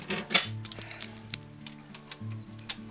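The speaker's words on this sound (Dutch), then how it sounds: "Even de deur weer op slot." Keys jingle and clink as a door is locked, with a handful of small metallic taps and rattles over a faint low hum, close by and quiet.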